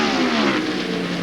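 Racing trucks from the 1998 NASCAR Craftsman Truck Series at Watkins Glen roar past in a loud, steady engine drone with rising revs, without pause and with no voices.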